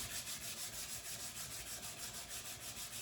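Sandpaper rubs by hand along a steel knife blade in quick, even back-and-forth strokes, about four per second, soft and close with no voices.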